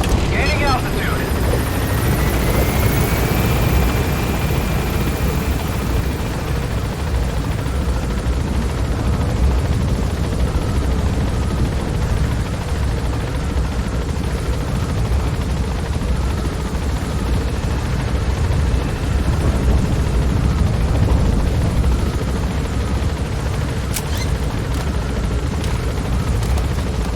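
Helicopter climbing in Metal Gear Solid 5, a loud steady rotor and engine roar that fills the whole stretch, with a brief rising whine at the start and a sharp crack near the end.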